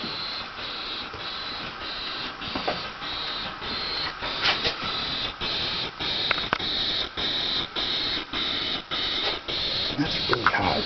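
A DC-to-DC converter on an electric vehicle gives off a steady, buzzy electronic whine broken into regular repeating pulses, fairly loud and close, with a few clicks and faint background voices.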